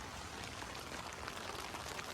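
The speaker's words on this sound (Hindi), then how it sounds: "बारिश देखो कितनी लगी हुई है" Rain falls steadily on the outer layer of a tent during an overnight downpour in a mountain valley, a dense continuous patter close by and even throughout, with no voices.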